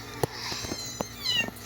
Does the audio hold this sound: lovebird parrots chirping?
no